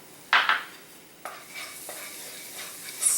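Minced garlic and shredded ginger sizzle in a pan for curry potatoes, with a spoon scraping and clinking against the pan in a few distinct strokes over a soft, steady frying hiss.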